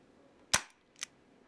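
Airsoft CO2 revolver firing a plastic shell: one sharp close crack followed by a quieter second pop, against near silence.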